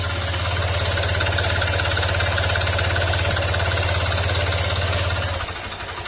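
A Honda Click 125 scooter engine idles up close, steady and loud, with a rapid rhythmic knocking running through it before it drops to a lower rumble near the end.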